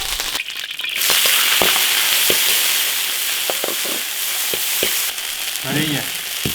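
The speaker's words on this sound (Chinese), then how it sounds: "烧油，把豆芽炒一下。" Bean sprouts stir-frying in hot oil in an iron wok, a loud, dense sizzle that flares up abruptly, punctuated by scattered clanks and scrapes of a spatula, close and without talk.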